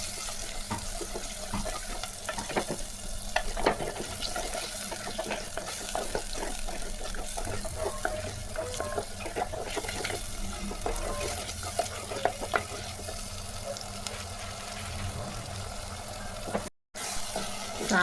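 Chopped large tomato fries in onion-ginger paste for a chicken gravy, a low steady sizzle broken by frequent scraping stirs, with a brief dropout near the end.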